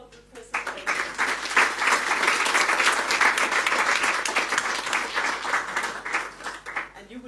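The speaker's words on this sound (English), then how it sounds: "Then please applaud the presentation." An audience applauds a conference presentation at the close of a session. Dense, steady clapping starts after a brief pause and holds loud and continuous for several seconds before tapering slightly at the end.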